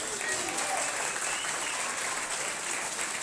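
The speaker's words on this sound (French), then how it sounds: "vous pouvez l'applaudir" An audience at a bowling venue event in Rodez applauds, a dense, steady wash of clapping from many hands that holds evenly through the whole stretch.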